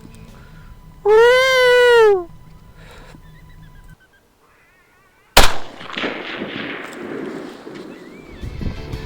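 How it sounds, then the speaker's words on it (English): A single loud, sharp rifle shot fired at a coyote in the woods cracks close by, followed by a decaying echo and rustling; before it, a drawn-out animal call sounds with a brief silence just before the shot. "I knew the male was going to follow, so I got ready to shoot him."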